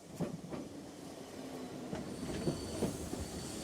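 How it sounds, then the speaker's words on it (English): A train rumbles along with clattering wheels and squealing brakes, rising in intensity as it slows to a stop. "At the station, the train screeches to a halt."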